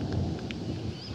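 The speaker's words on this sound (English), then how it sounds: "watch the thunder," Steady low rumble of thunder during a rainstorm over a vineyard block in the Hunter region, with a continuous wash of rain noise and no clear sharp crack, dense and close throughout.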